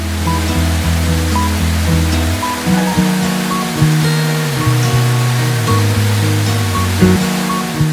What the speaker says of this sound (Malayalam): കേരളത്തിൽ മഴ പെയ്യുമ്പോഴാണ് കുറ്റാലം വാട്ടർഫോൾസിന്റെ സീസൺ ആരംഭിക്കുന്നത്